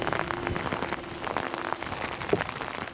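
Steady rain patters on surfaces outdoors on a mountainside in the Yukon, a dense, even hiss of drops close by with no voices.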